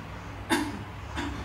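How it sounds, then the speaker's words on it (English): Two short coughs, a sharp loud one followed by a softer one about half a second later, from a person during a breathing and core muscle exercise, close and with no talk. "Can you turn this on? Cough."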